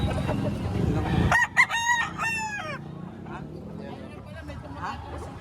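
Roosters crow loudly and close with several harmonic calls, and chickens cluck over a busy hubbub of voices at a poultry market in Padre Garcia, Batangas.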